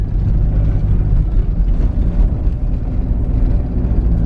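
A Mitsubishi Delica's engine labors steadily as it climbs hills on a mountain trail, a continuous low drone that holds up close and loud throughout with no talking.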